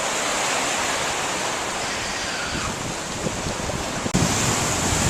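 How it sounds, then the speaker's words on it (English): Ocean waves wash over beach rocks at high tide, a steady broadband surf roar with a fresh surge breaking in near the end, loud and close with no voices. "once a wave comes, it gets covered"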